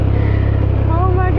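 A 2021 Can-Am Ryker Rally three-wheeler engine runs with a loud, steady, close rumble that holds a constant pitch, while a voice is heard over it near the end.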